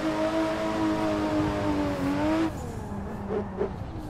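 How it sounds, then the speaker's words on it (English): A Toyota A90 drifting through turns on Pacific Coast Highway, with a loud, close engine note that rises and falls and then cuts to a lower drone with brief tire chirps. "Now we get into some drifty turns."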